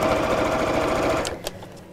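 A sewing machine stitching a bowsaw edge runs loud and close in a steady fast mechanical whir for over a second, then stops and leaves a few soft clicks and handling noises.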